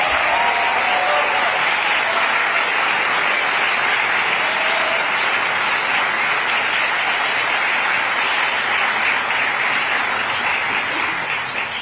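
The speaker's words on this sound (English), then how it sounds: "We want to applaud you." A large crowd applauds Turning Point USA students at a state event with Governor Sanders, producing dense, loud, sustained clapping that fills the whole stretch without a break and eases slightly at the very end.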